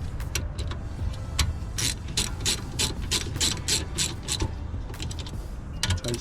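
A ratchet tightens a bolt on the rear brake caliper of a 2016-2019 Hyundai Sonata, its pawl clicking in quick, sharp, close bursts with brief pauses between strokes.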